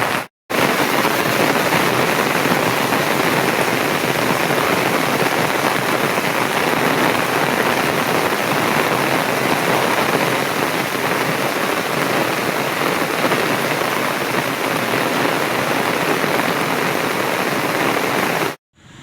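Heavy rain pours down in a dense, constant hiss, loud and unbroken from start to finish.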